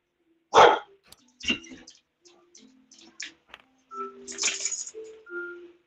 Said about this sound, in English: And he's barking at somebody.